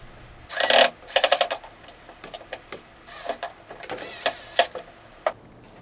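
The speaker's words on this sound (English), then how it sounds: "You can use the drill and pliers to tighten the set." A power drill drives screws and lock nuts onto a metal hook for a bike bucket, sounding as several short whirring bursts separated by pauses, close and clear with no talking.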